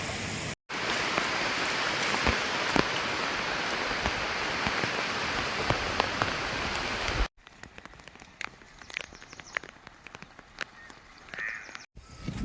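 Heavy downpour hammering steadily on surfaces during a walk through water, loud and dense for most of the stretch, then a quieter, more scattered patter of drops with occasional crow caws in the background.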